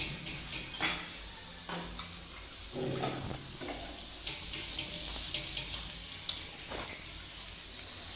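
Water poured into a cooking pot holding a ground spice paste for a country-style chicken curry, a steady close splashing pour with faint clinks and stirring.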